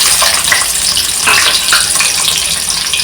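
Small onions fry in hot oil in a loud, dense, continuous sizzle and crackle that stays close and steady throughout.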